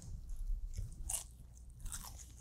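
Crunchy biting and chewing of Japanese food such as sashimi, squid karaage and seaweed-wrapped bites at a mukbang meal, close to the mic with soft moist crunches throughout.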